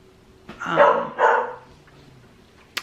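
Two close, loud bursts of barking from a couple of dogs, one right after the other, followed by quiet.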